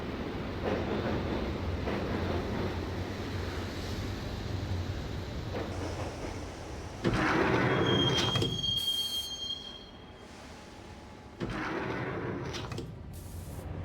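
A train ride in the video game Max Payne: a steady rumbling rail roar with squealing wheels, a brief high metallic screech midway, then a quieter stretch as the sliding train doors clunk before the noise resumes.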